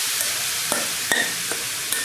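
Zucchini frying in oil in a pan, a steady loud hissing sizzle throughout, broken by a few sharp clicks from stirring.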